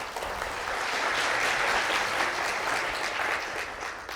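Steady, full audience applause at the opening of the Korea Employment Agency for Persons with Disabilities' 2024 job development results-sharing ceremony, sustained throughout at an even level.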